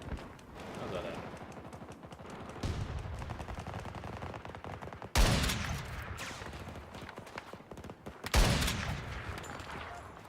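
Rapid light-machine-gun bursts and single shots in a Battlefield firefight, dense and close, with a couple of louder blasts standing out, running under steady talk from a player.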